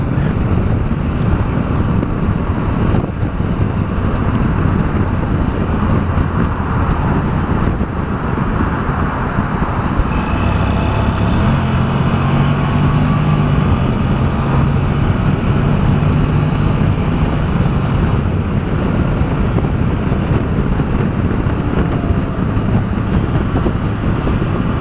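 Honda CTX700 motorcycle cruising at high speed, a steady loud engine drone mixed with heavy wind rush and road roar throughout, rising in pitch briefly midway as the bike accelerates.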